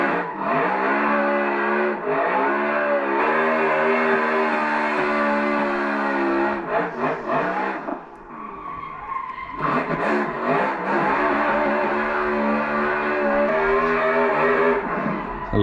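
RTR Ford Mustang drift car engine at Long Beach in a racing sim, a loud, constant high-revving roar that dips briefly in the middle before surging back, with skidding and tire squeal, no voices.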